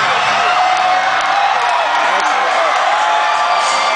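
Loud live concert crowd at a show in Calgary in 2011, a dense steady roar of cheering, whoops and shouts that fills the whole stretch with no breaks.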